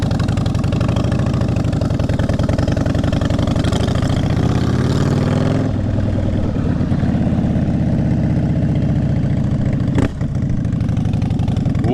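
A 2017 Harley-Davidson Softail Slim idling close by, a loud, steady, throbbing V-twin rumble with a brief blip partway through, with no talk over it.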